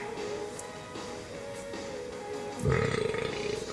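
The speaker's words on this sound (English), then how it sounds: "I now belch from my heart." A single loud, low belch near the end bursts out abruptly and rumbles for about a second against a quiet background.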